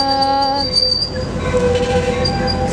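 Amtrak San Joaquin train 719 pulls into Modesto station, its wheels squealing in loud, sustained metallic tones close by, shifting pitch as the cars roll past.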